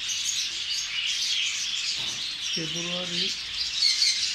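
Small birds chirping and tweeting inside a bird shop in Buraidah, Al-Qassim, Saudi Arabia, a steady high twittering from many birds with a brief lower call partway through, under light background noise.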